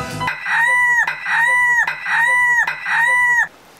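Rooster crowing in four repeated, evenly spaced calls, each loud and close with a rising then sustained tone, filling the clip with no talk.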